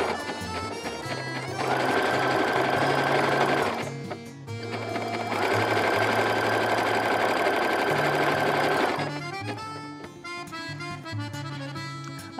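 A sewing machine runs a zigzag stitch, sewing an appliqué of biflex and mesh onto a gymnastics leotard. The steady mechanical whirring comes in two sustained bursts with a short pause between them, then continues more unevenly, with no talk.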